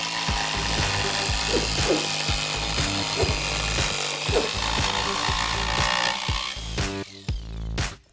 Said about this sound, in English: So all you need to do is clamp it down and get sawing.